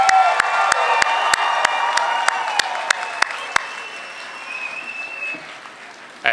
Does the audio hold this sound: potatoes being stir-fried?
no